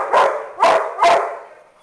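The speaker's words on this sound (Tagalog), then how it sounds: "Nahihili ang aso ko." A dog barks three times in quick succession, loud and close, at an indoor birthday gathering, with each bark trailing off briefly before the next.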